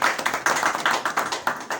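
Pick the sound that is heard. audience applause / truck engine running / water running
audience applause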